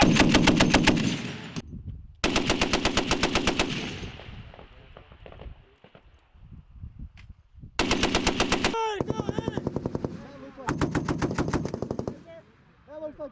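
An M2 heavy machine gun fires live in several long, loud bursts of rapid rhythmic shots separated by short pauses and echoing tails, with faint voices between bursts.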